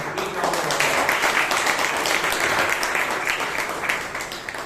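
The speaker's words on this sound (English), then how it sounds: "give George and Vijayan a big round of applause" Sustained applause from the audience at a Bangalore Toastmasters meeting, a dense, steady clatter of many hands that holds loud and even for about five seconds, with no speech over it.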